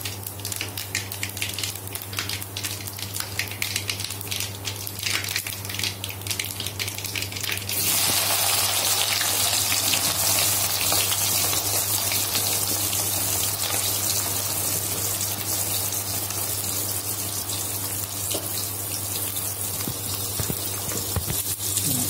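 Onions sizzle in hot oil with mustard seeds and cumin, first a crackling spatter and then a loud, steady frying hiss that fills the pan throughout without speech.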